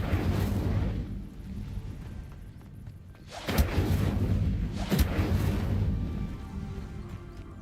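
A fire spell cast in Hogwarts Legacy bursts into loud roaring, crackling flame blasts, with two sharp whooshing flare-ups over a continuous rumbling blaze.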